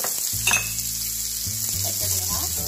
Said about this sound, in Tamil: ஆனியனையும் அதில் ஆட் பண்ணுவோம்.